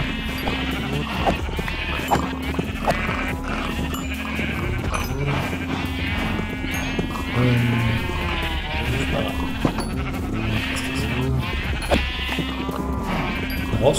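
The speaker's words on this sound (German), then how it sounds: "Wie viele bunte Schafe." Colourful sheep in the video game Minecraft, bleating repeatedly over steady background game sound, several overlapping calls close by and fairly loud.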